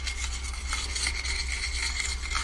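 Sandpaper rubs against a brake rotor from a 2017 Jeep Renegade Trailhawk in a continuous, close rasping scrape with a steady rhythm.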